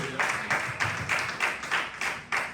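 A church congregation claps together in a steady rhythm of repeated bursts, moderately loud and fairly close, with no talking over it.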